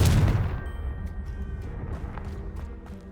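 A Confringo explosion spell in Hogwarts Legacy bursts loudly up front with a deep boom, then gives way to a softer crackling, rumbling aftermath.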